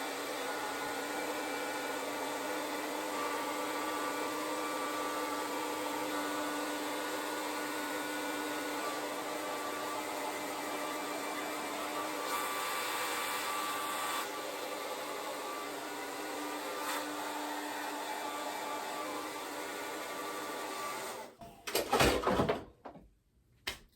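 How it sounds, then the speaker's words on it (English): A blow dryer runs continuously over braided hair, a steady loud whooshing roar held for about twenty seconds, then it cuts off with a few bumps and handling clatter near the end. "I'm going to go over it with the blow dryer for a few minutes"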